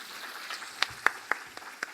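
At a chef and porcelain event, an audience gives sparse, faint applause: a handful of separate claps spaced unevenly over a quiet background.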